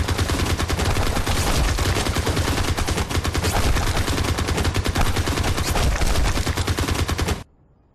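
Dense, continuous gunfire in a kung fu action film, loud machine-gun bursts rattling without pause for about seven seconds before cutting off abruptly into near silence.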